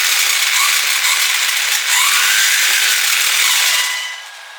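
An RC car's electric motor screams at full throttle, a loud, high, continuous whine with rattling drivetrain noise that holds for about four seconds before easing off.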